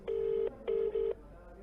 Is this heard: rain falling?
no